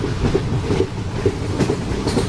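Steady rumble and clickety-clack of a moving passenger train heard from inside a nearly empty coach on a Jaipur to Jaisalmer service, with rhythmic wheel knocks over continuous running noise and no talk.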